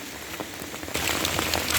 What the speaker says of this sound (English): So the rain is still falling.